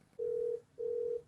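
A telephone rings for an incoming call during a recorded class session: two steady, even buzzing rings of about half a second each, separated by a short gap, fairly clear over a quiet room.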